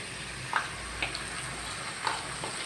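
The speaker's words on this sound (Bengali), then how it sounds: "এখন মশলা দিয়ে কষিয়ে নেবো" Ground paste of white cumin, ginger and dried red chilli frying with potatoes in a pan for a pabda fish oil-chilli curry: a steady soft sizzle with a few light stirring clicks, no talk.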